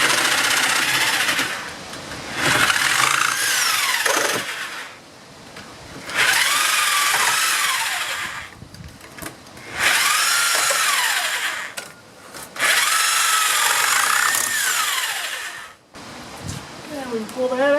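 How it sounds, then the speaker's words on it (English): A reciprocating saw cuts nails behind the brick mold of a pre-hung exterior door, sounding as loud buzzing bursts of several seconds each, broken by short pauses and metallic scraping, with someone speaking in between. "So I'm going to take my reciprocating saw"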